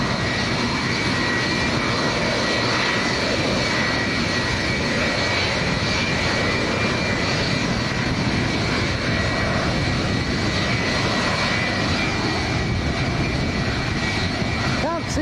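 An aircraft on approach at Lanzarote airport in a strong crosswind, producing a continuous loud engine roar that persists throughout, with a voice talking over it.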